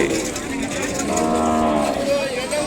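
Ongole bulls and cattle at a weekly livestock market in Kodada, with a loud, drawn-out moo rising over a steady crowd-and-market murmur.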